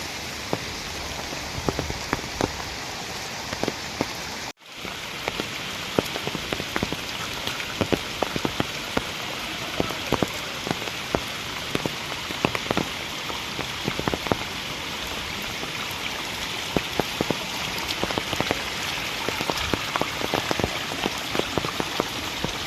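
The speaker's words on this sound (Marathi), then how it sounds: "पाऊस पण भरपूर आहे इकडं" Steady heavy monsoon downpour on the Karnala Fort trail near Panvel, a thick unbroken hiss dotted with sharp nearby drop impacts, briefly cutting out early on before resuming just as strong.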